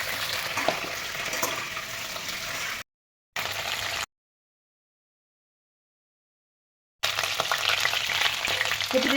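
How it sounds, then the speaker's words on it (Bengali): Cauliflower pieces frying in oil over lowered gas, a dense, close sizzle with crackling spatter that cuts out twice into brief silence before resuming. "কপিদের প্রথমে একটু তেলে ছিটকায় কপি বেশ"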